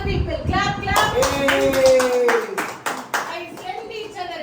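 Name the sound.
children clapping at a Christmas party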